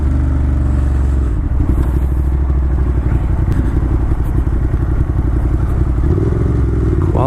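A Ducati Monster motorcycle rides along a rough, bumpy road, its engine holding a steady, loud rumble close by, with rapid clattering thumps from the uneven surface running underneath throughout.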